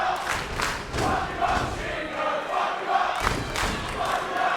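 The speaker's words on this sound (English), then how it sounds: "Bonza getting his usual support from the PWA crowd" A professional wrestling crowd at a PWA show cheers and shouts for Jack Bonza during his match with Shingo Takagi, loud swelling roars with chanting bursts that rise and fall.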